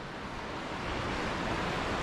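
A steady, broad roar of rushing water from the Tumpak Sewu (Coban Sewu) waterfall fills the air, constant and fairly loud with no voices.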